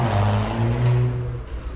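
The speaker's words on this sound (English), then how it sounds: "we've got another V6 here making a bit of noise" A VW Golf R32's V6 engine holds a loud, close, throaty rev with a deep, steady drone that eases off slightly at the end.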